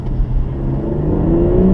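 A BMW M240i engine rumbles steadily up close, its exhaust note droning low and rising slightly in pitch as it revs.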